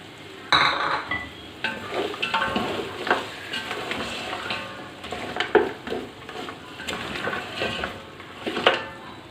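Tomatoes and chopped green chilies frying in a pot for mutton chickpea pulao, with steady sizzling under repeated spoon stirring and scraping, plus occasional clinks of utensil against the metal pot.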